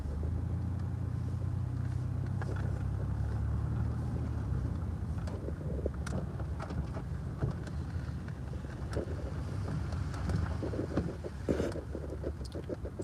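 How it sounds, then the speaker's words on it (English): A small Chevy S10 pickup truck without four-wheel drive drives along, its low engine drone and road rumble continuous and steady, with wind buffeting and scattered knocks and rattles throughout. "No four-wheel drive in this little S10 pickup truck."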